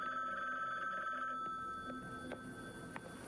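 A telephone bell rings with a sustained electronic warble that stops partway through, leaving faint room noise with a few soft knocks afterward.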